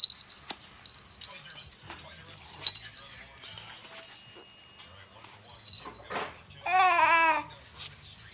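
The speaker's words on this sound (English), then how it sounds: "Yeah, you're shaking the rattle." Silver baby rattle being shaken: scattered light metallic clinks and jingles come in short irregular bursts, close and soft, while a baby babbles and an adult voice briefly speaks.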